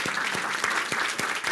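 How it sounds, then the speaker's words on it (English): Audience applause fills a short burst, dense and steady, with a round of clapping from a crowd following a first completed business deal. "A round of applause"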